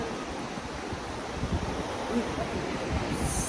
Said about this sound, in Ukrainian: море штурмиці і шторм на морі